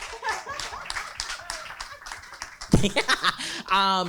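A burst of audience clapping mixed with a little laughter breaks in near the end, while a speaker talks over most of it.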